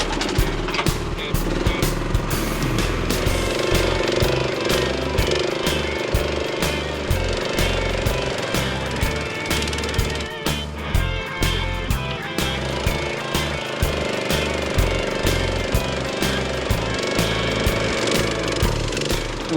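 A machine drives a steel helical pile into soil on a home foundation repair site, giving a loud, continuous, chattering mechanical pounding close by with a rapid, slightly uneven pulse that never lets up.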